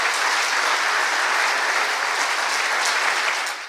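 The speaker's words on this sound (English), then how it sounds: "a larger round of applause for our guest speaker, Professor Patutomi" Dense, steady applause from a seminar audience for a guest professor, continuous clapping throughout that tapers slightly at the very end.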